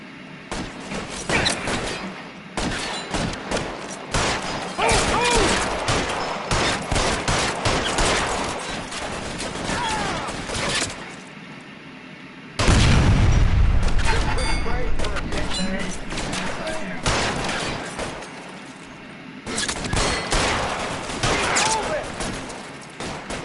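Rapid bursts of gunfire from the video game L.A. Noire, volleys of shots crackling in clusters with short pauses and a loud booming stretch midway, while voices shout and talk over the shooting.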